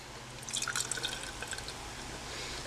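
Trillium Dialed In double IPA poured into a glass, a soft, close liquid splashing and trickling that swells briefly, then settles into a faint steady fizz, with no talking.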